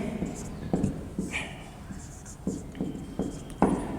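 Chalk or marker strokes on a board during a physics lesson, short scratchy bursts in an uneven rhythm, close and moderately loud, with a teacher's voice talking over them.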